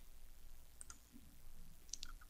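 Small clicks from a computer mouse or keyboard while a photo-editing tool is adjusted, a couple of faint, quick ticks in an otherwise quiet room.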